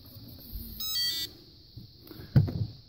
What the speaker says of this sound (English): it's kind of a loud beep.